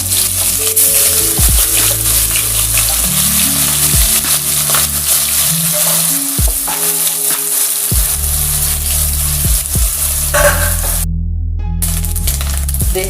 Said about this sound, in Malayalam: ഈ ചൂടായ എണ്ണയിലോട്ട് നമുക്ക് കൊഞ്ചിനെ ഫ്രൈ ചെയ്തെടുക്കാം.